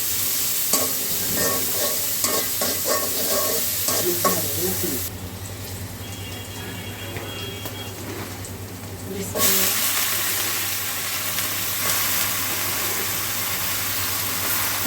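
Onions and sliced green chilies frying and being stirred in a pan, a steady sizzle with scraping strokes, quieter for a few seconds in the middle before the hiss returns.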